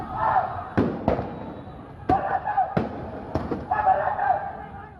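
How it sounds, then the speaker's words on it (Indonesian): Several sharp popping tear gas launcher shots ring out at irregular intervals over an agitated crowd shouting in the background, during clashes between students and police in Kendari. "tembakan gas air mata."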